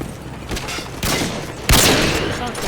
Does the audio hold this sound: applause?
no